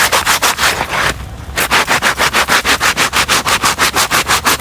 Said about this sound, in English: And even working this over a stone works best.